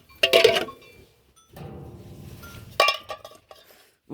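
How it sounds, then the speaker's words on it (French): Metal pots and bowls clink together in two short, bright bursts, while a low, muffled rumble fills the pause between them; the sound is fairly close and comes during sheep feeding on a farm. "On prend les casseroles, les gamelles et tout."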